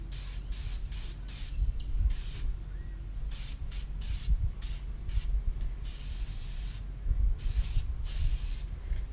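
Close, rhythmic hissing bursts from an aerosol spray can coating an air filter during cleaning, some short and some longer, over a low background rumble.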